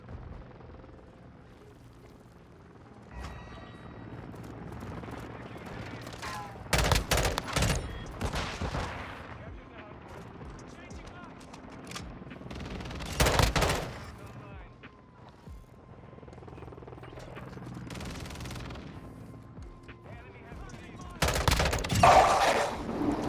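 Rapid bursts of M16 rifle fire crackle in Modern Warfare 2 alongside other gunfire and explosions, loud and intermittent over a continuous background rumble of in-game combat.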